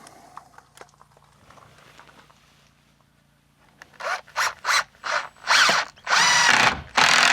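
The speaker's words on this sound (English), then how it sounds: "Go ahead and screw it down now." Milwaukee cordless drill driving screws into a DIY sleeping platform inside a Lexus GX470, with quiet handling noises first, then a series of loud, close whirring bursts of rising length.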